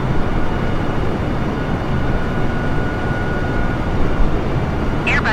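Airbus A320 airliner climbing after departure through 1,300 feet, heard as a continuous dense engine roar filling the cabin, steady and loud, with a brief higher chirp near the end.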